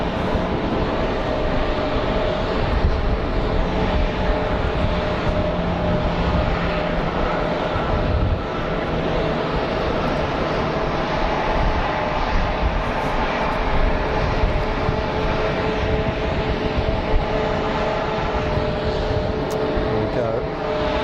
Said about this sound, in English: Pegasus 321 Neo on its taxi out.